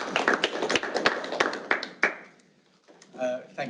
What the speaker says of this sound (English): Should we have a round of applause?